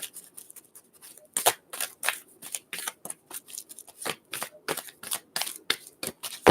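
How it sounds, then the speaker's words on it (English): Angel oracle cards shuffled by hand in a quick series of crisp, papery riffles and slaps, close and fairly quiet, with no talking. "Giving it a quick shuffle."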